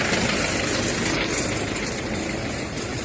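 A steady, rumbling tractor engine idles close by at a tractor market, continuous and fairly loud with no breaks or voices.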